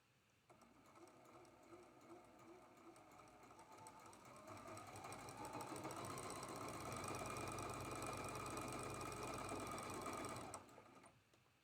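A sewing machine stitches the seam of a triangle onto a traditional quilt block, running as one steady, fairly loud mechanical whir that starts after a brief pause and holds until it cuts off near the end.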